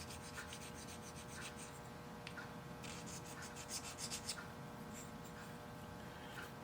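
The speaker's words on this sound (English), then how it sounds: "And I'll take a stone and kind of stone the end of that." A stone rubs back and forth across the end of a metal rod, removing burrs in a quiet, steady rasping scrape that repeats in short strokes, close up with no talk.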